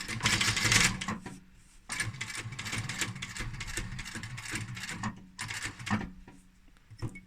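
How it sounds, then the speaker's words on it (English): A sewing machine runs a straight seam across fabric in a cushion cover, heard as close, bursty mechanical clatter that starts and stops in short runs with quiet gaps between. "I'm just going to sew straight across there"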